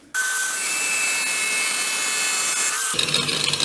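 A Distar Esthete diamond disc cuts through tile at a high speed setting, a loud, even whining grind that starts abruptly, holds steady for about three seconds, then breaks into rougher rattling as the cut ends.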